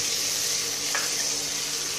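Green peas frying in ghee and oil with ginger for samosa filling, a steady broadband sizzle holding even and close throughout with one brief stir or crackle midway.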